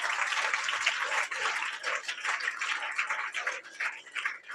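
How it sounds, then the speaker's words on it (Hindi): A congregation at a Friday church meeting claps loudly in thanks, a dense, sustained wash of many hands applauding together throughout. "जोरदार ताली बजाकर धन्यवाद दो।"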